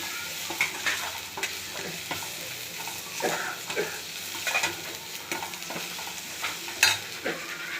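Fried idli pieces tossed with spices and a little curry leaf in a pan, a steady sizzle under repeated scraping stirs of a spoon against the metal, close up and without any voices.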